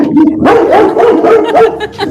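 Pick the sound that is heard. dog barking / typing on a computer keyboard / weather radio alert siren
dog barking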